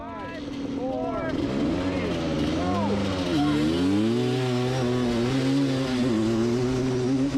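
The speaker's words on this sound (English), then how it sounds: "We're gonna try a little drag race here in the sand bowl." Vintage quads drag racing in a sand bowl, engines revving hard with rising and falling whines as they accelerate and shift, loud and close throughout, with a voice briefly heard over the noise.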